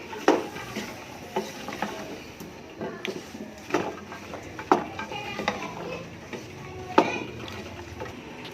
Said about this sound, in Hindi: अब करेंगे इस सब्ज़ी को अच्छी तरह से मिक्स तेल में और प्याज में